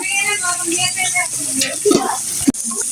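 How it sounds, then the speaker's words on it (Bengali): Sliced onions sizzle and crackle in a hot pan for a thankuni-leaf dish, a dense steady frying hiss near the mic, with a couple of soft stirring scrapes and a short utensil knock toward the end. "পেঁয়াজগুলো ভাজা ভাজা হয়ে গেছে"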